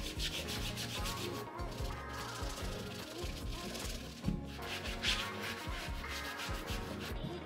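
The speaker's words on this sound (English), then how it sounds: "we're gonna try combining the toothpaste and the magic eraser. If it helps cleaning like this" A white cycling shoe being scrubbed with a magic eraser and whitening toothpaste, giving steady close rubbing strokes in a continuous rhythmic scratch with no talking.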